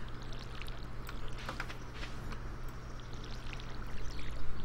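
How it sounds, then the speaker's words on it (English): Watering crops with a watering can in Stardew Valley: a soft game splash-and-pour effect over a low steady hum, rising slightly toward the end, with no talking. "I am going to water that spot."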